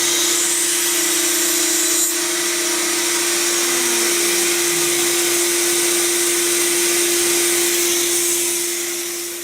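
A router cuts dovetail joints in drawer-side workpieces held in a dovetail jig, a loud, steady high-pitched motor whine with constant cutting hiss, close and unbroken for the whole stretch before easing slightly at the end.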